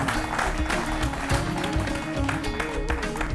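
Steady clapping rises from an audience at the 2019 Kisan Mahila Award ceremony in Ladakh as women farmers are honoured, a continuous dense patter with a faint voice underneath.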